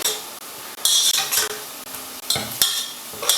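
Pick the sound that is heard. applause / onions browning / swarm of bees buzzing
onions browning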